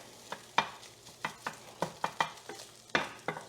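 Eggs stirred in a hot pan while cooking egg fried rice, with a string of sharp spatula scrapes and taps over a faint background sizzle, close and moderately quiet, no speech.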